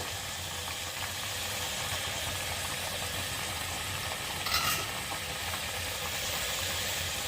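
A continuous hiss and sizzle of an egg frying in hot mustard oil in a kadai, steady throughout with a brief clatter partway through.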